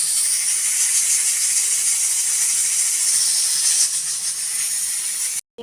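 A pressure cooker whistle vents steam in a loud, continuous high hiss that holds steady for several seconds close by, then cuts off abruptly, with no speech over it.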